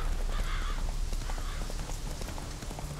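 Roach, the horse in The Witcher 3, walks across swampy ground with a steady clip-clop of hooves, close and fairly loud, over a low ambient rumble.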